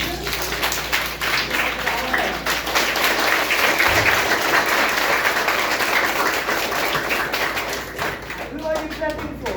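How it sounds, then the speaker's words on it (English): A roomful of people clapping their hands, a dense, sustained patter that stays loud and steady for several seconds, with voices mixed through it. "But I just asked you to clap."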